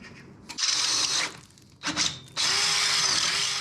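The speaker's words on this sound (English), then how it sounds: "I use the flat wheel on a drill" A power drill with a flat wheel whirs and grinds against metal panels, cleaning swarf off drilled holes, in two long bursts separated by a brief pause, close and loud.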